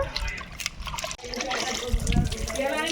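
Soaked tamarind being squeezed and washed by hand in a bowl of water gives close, continuous sloshing and splashing with small drips, and a voice is faintly present in the background.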